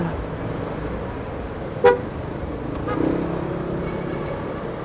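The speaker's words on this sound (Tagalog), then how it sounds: "Kaya oh, traffic pa rin pala." Busy road traffic hums steadily while a single short car horn toot sounds near the two-second mark, followed by a lower engine swell from a passing vehicle in congested traffic.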